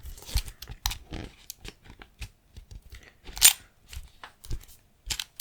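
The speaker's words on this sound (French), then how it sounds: "Je vais prendre une nouvelle feuille." Close rustles, crinkles and soft taps as a paper sheet is handled, irregular bursts with quiet gaps and no voices.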